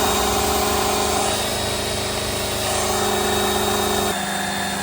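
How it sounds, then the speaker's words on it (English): A cordless drill powers a drill-driven transfer pump draining an AC condensate pan, giving a loud, steady whirring drone with a constant motor tone that shifts slightly near the end. "and we have our drill hooked up."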